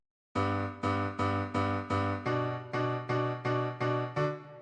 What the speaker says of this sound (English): So without any effects, the piano sounds like this.